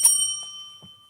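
A small handheld bell rung once, a bright clear ding with a ringing tone that decays over about a second, followed by a couple of faint soft knocks.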